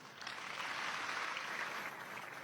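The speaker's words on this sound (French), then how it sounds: "Pierre de Villiers a quitté l'état-major des forces armées sous les applaudissements de ses troupes" Troops at the armed forces headquarters applaud departing general Pierre de Villiers, a steady, fairly faint wash of clapping that holds evenly from start to finish.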